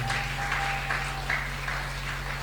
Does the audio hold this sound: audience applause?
yes